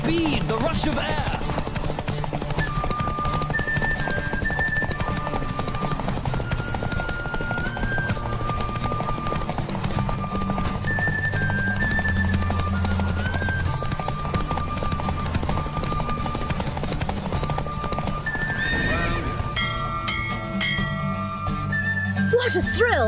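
A horse gallops hard in a race in The Witcher 3, rapid rhythmic hoofbeats continuing under background music with whistling tones, ending in a brief burst near the finish.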